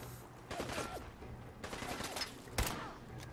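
Sniper rifle shots fire at a shooting range in Fallout 4, three or four sharp, faint reports spread across a few seconds, each with a short tail and a thump beneath.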